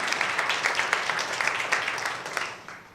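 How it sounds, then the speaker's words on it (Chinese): A church congregation at a Sunday service breaks into warm, sustained applause, a dense patter of many hands that fades out toward the end, with no voices over it. "我们用拍手来同意这件事情"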